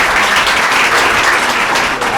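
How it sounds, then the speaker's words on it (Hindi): Audience applause welcoming guests at a college induction programme, a dense, loud, steady wash of clapping filling the whole short moment. "हम लोग तहे दिल से इस प्रांगण में स्वागत करते हैं तालियों के साथ।"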